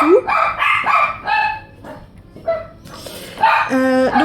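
Small dogs bark and yip repeatedly in short, loud, close bursts, with a whimpering note between barks, in a room where colored pencils are being shown.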